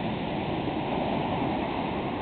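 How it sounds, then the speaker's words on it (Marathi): Ocean waves surging at Kalpakkam beach near Chennai at early morning, a continuous broad roar of surf, steady and fairly loud with no talk. "सुंदर सुंदर लाटा आल्या आहेत"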